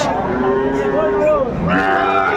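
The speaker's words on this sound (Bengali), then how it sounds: "শাহিওয়ালের ষাঁড় বাচ্চা, কোয়ালিটি সম্পন্ন" A Sahiwal bull calf lowing loudly and continuously up close at a cattle market, a drawn-out bellow with a brief break before a second call.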